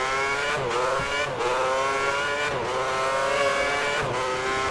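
Formula 1 car accelerating in the racing video game F1 2010, a high whining engine note rising and dropping through repeated gear changes, steady and loud with no talk.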